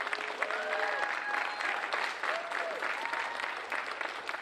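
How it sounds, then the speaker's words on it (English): An audience at a college Orange Shirt Day of Remembrance event claps warmly for several seconds, a moderate, fairly distant patter of many hands with faint voices and whoops threaded through. "Let's all give Dr. Kasner a round of applause."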